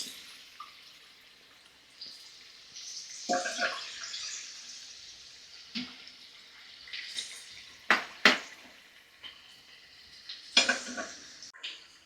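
Kajjikayalu, sweet stuffed dumplings, frying in hot oil on a stove, with a soft steady sizzle broken by sharp bubbling bursts and occasional clinks of a utensil against the pan.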